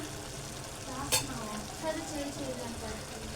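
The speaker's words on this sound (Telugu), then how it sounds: "ఒక్కసారి కలుపుకున్నాం" Cauliflower curry stirred in a pan with tomato and chilli powder, a soft steady sizzle running throughout with a couple of faint scraping knocks, quiet and close.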